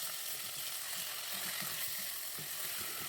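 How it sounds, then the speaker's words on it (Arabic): Half a kilo of lamb sizzles in a spoonful of butter in a pan, a steady, dense frying hiss with faint stirring knocks underneath and no voices. "انا معايا معلقه من الزبده، هنزل عليها بنص كيلو من اللحمه الضاني، هديها تشويحه تمام"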